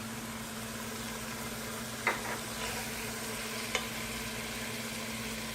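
Meat browns in ghee in a pot while cooking nihari, a soft steady sizzle against a low hum, with a couple of faint spoon scrapes and clinks as it is stirred.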